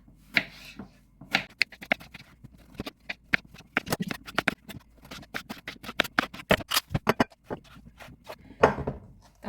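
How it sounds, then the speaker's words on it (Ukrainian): A knife chops eggplant into cubes on a cutting board, giving a fast, irregular run of sharp, close knocks and taps with brief pauses between bursts, heard alone. "Баклажан ріжу такими, все такими кубиками"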